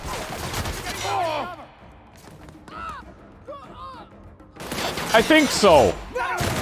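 Gunfire in the video game The Outer Worlds, bursts of rapid shots at the start and again louder near the end, mixed with music and sci-fi effects while a person talks briefly.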